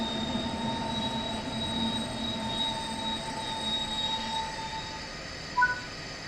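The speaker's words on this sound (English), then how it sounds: "Bring the train to a stop now by applying the train brake." A German regional train on the Kinzigtalbahn from Frankfurt to Fulda brakes to a stop in Train Sim World 5, metal wheels squealing in long sustained whining tones over a steady rumble, closing with a brief clunk.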